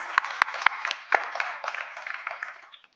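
Applause at an awards ceremony, a scattering of sharp claps in the first second swelling into a brief round of clapping from the audience that thins and fades out by three seconds.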